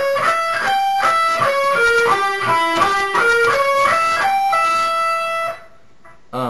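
Distorted electric guitar plays a slow diminished arpeggio of separate notes climbing and falling, ending on a sustained note that fades out.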